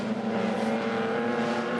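Race cars drone around a racing track in a steady, loud, sustained engine roar with strong tonal hum, heard close over a brief stretch without talking.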